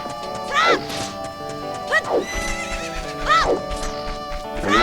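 Horses at a pen in Zelda: Ocarina of Time, three loud whinnies spaced a second or two apart over steady game music, with clip-clop thumps between them.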